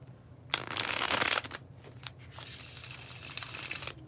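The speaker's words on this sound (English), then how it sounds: "Do a bridge shuffle because they're fun." Tarot cards riffled and shuffled close up, a loud burst of flapping from a bridge shuffle followed by softer continuous riffling and a few taps.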